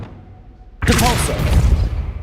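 A Depulso spell impact in the Hogwarts Legacy video game: a sudden booming thump after a quiet moment, followed by a dense rumbling rush with a faint tonal whoosh.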